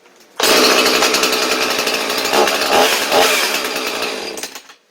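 A Husqvarna 445/450 gasoline chainsaw revs up suddenly and runs loud and close with a rough, rasping engine note, surging a few times before winding down at the end.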